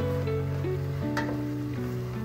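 Finely chopped capsicum sizzles as it is sautéed in a pan for Mumbai-style pav bhaji, a steady close hiss running throughout with sustained tonal background music layered over it.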